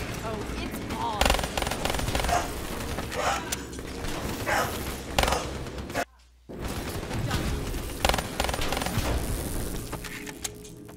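Dense bursts of automatic gunfire and booming explosions fill a Call of Duty Black Ops 3 campaign battle with hover jets, loud and continuous, broken by a sudden brief silence midway before the firing resumes.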